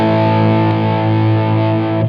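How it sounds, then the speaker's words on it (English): A single sustained crunchy electric guitar chord through a Wampler Golden Jubilee overdrive pedal with its character control engaged, ringing steadily with slight compression and clipping, close and alone with no talk. "let's compare the sound of the pedal when I kick in the character control"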